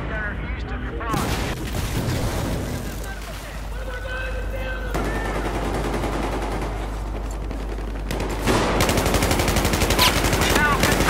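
Machine gun fire in the Battlefield 4 video game rattles in dense, sustained bursts amid loud battle noise, with radio-style voice callouts and other game sounds layered over it throughout.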